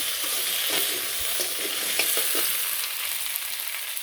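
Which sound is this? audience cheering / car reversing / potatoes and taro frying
potatoes and taro frying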